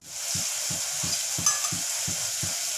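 Onions cooking in a pan for a potato curry, a steady close sizzle of frying with a regular rhythm of stirring strokes running throughout.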